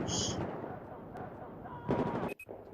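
Gunfire in the video game Battlefield 4, with rapid automatic bursts and sharp shots at moderate distance, a few cracks clustered near the end.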